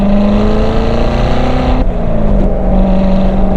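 A manual C7 Corvette Z06 engine roars loud and close as it pulls through the gears, its rising note dipping briefly at a shift partway through before climbing again.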